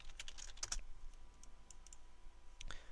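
Keyboard typing while building Blueprint logic in Unreal Engine 4, a few quick key clicks near the start and a burst again toward the end, faint and close with low background hum.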